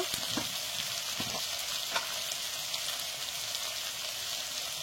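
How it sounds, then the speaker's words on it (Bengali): Onions and green chilies fry in oil with bay leaf and five-spice tempering until they turn reddish. A soft, even crackling sizzle carries on alone throughout, with a few faint clicks of stirring. "তো পেঁয়াজগুলো আমি লাল লাল করে ভেজে নেব।"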